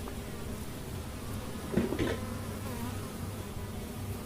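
Honey bees buzz faintly around an open honey bee colony during honey removal, a soft continuous insect hum with a brief louder buzz near the middle as a bee passes close.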